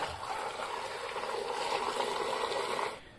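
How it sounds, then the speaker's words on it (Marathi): Clean drinking water pouring steadily into a pot of washed mangoes, a continuous splashing gush at moderate level that runs evenly and then stops abruptly near the end. "तर त्याच्यामध्ये स्वच्छ पिण्याचं पाणी ओतलंय।"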